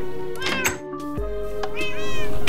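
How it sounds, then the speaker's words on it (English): Cats in the Minecraft video game meowing several times in quick succession, clear tonal mews close and loud with a longer rising meow at the end, over a soft game background. "I have some cats. I love cats."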